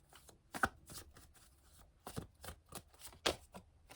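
Tarot cards being shuffled by hand, soft riffling and tapping strokes in an irregular rhythm, close but quiet, with no speech over it.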